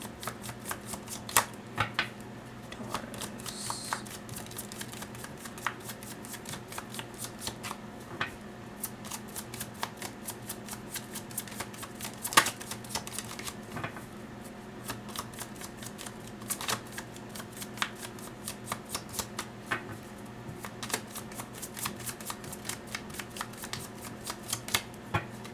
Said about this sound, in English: One more shuffle, then